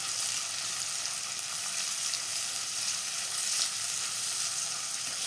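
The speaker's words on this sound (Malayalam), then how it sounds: "ഇഞ്ചി വെളുത്തുള്ളി ഇട്ട് കൊടുക്കണം." Ginger and garlic sizzling in hot oil with frying onions for a vegetable kurma, a loud, continuous, even hiss of frying close by with no talk.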